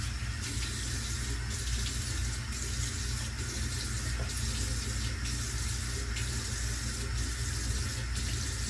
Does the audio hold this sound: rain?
no